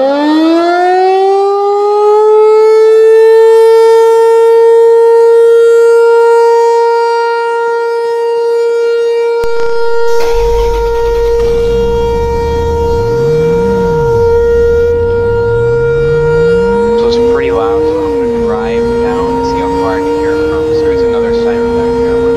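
A loud outdoor warning siren in the Roblox game Greenville winds up to a steady wailing tone, then keeps sounding while a lower tone sweeps up and down beneath it, continuous for over twenty seconds.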